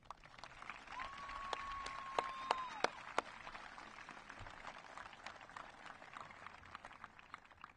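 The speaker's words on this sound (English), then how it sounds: "Please join me in a round of applause for our graduating Braves" Graduation crowd at the Newton High School class of 2024 ceremony applauds the graduating seniors, a faint, distant wash of clapping from a large gathering with a few sharper claps and a brief whistle standing out.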